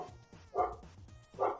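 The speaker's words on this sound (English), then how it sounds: "Dogs!" Dogs bark twice in quick succession, two sharp yipping barks about a second apart, close and fairly loud above a quiet background.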